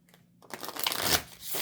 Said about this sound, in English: I can't shuffle this whole stack of cards, so I'm just doing it this way.